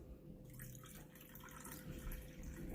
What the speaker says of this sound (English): Vinegar, I pour it into the cabbage juice.